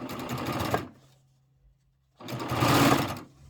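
A serger stitches the back onto a pillow in two loud, close bursts of rapid whirring, separated by a near-silent pause with a faint low hum, no talking.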